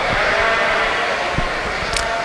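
Sheep bleating in the pens at a Poll Dorset ram lamb show at the Northern Oklahoma College Sheep Center in Tonkawa, Oklahoma. Several loud, overlapping calls sound over a constant crowd and barn murmur.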